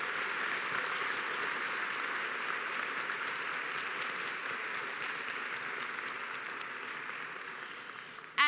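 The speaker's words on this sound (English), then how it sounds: "So let's give Nick Pinchuk another round of applause" An audience applauds Nick Pinchuk at a National CTE Signing Day event at WSU Tech, with sustained, even clapping that holds steady for several seconds before a sudden louder knock at the very end.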